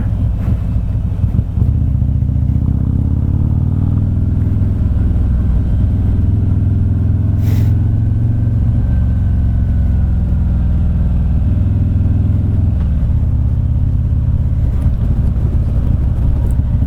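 A Harley-Davidson Street Glide motorcycle rides downhill on the steep, narrow, slippery Macquarie Pass, its engine a loud, continuous low rumble with wind buffeting, steady and close throughout.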